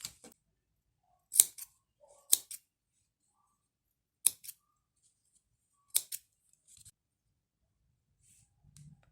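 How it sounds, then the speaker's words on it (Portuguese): Scissors snipping crochet yarn ends on the back of crochet mandalas for a necklace, a handful of sharp, close snips spaced apart by quiet pauses, with no one speaking. "aqui atrás a gente já pode cortar essas pontas"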